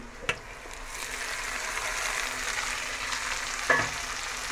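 Onions frying in a pan, with tomatoes added for a cabbage and potato dish, give a steady close sizzle and hiss. A sharp clatter opens it and another comes near the end, with no talk.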